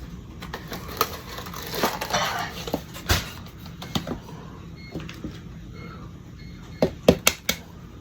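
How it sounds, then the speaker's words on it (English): Eggs being cracked into a bowl while making chocolate chip cookie dough: scattered close, crisp taps and cracks with soft wet rustling, ending in a cluster of sharp knocks. "Now I've got 2 eggs that I'm breaking in here."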